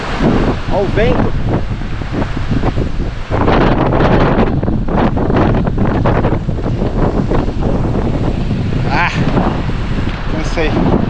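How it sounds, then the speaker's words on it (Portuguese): Heavy wind buffets the microphone while cycling in the rain, a loud continuous roar with gusty surges, and a voice talks intermittently over it. "Olha o vento."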